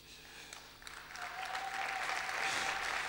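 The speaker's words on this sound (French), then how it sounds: "notre frère Banza, que je vais demander de se lever pour que les gens l'applaudissent" Audience applause at a men's national convention, a crowd clapping in a hall and swelling steadily louder over a few seconds, moderately distant, with no voices over it.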